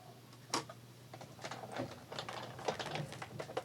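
A hand-cranked die-cutting machine rolling plates through for a craft project, producing a run of clicking, rattling mechanical ticks and bumps at close range, with no talking.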